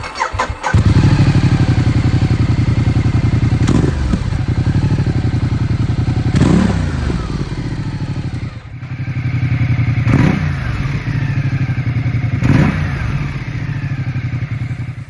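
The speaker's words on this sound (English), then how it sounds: "you would hear the purr of that exhaust later" A motorcycle exhaust purrs at low RPM close by, a steady idle broken by four short throttle blips spaced a few seconds apart, each swelling and then settling back to the idle.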